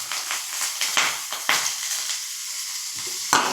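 Mustard seeds tempering in hot oil in a kadai, a close, bright sizzle with rapid crackling spurts and popping bursts over a few seconds, no voices.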